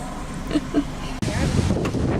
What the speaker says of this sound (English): It is windy. It's crap. So I apologize for any kind of noise or volume distortion.